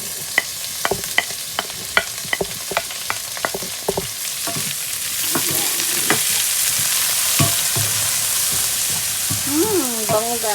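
Onions hit a hot pan with sliced pork and shrimp paste, sizzling and frying steadily while a utensil taps and stirs in sharp, regular clicks, the hiss growing louder and fuller partway through.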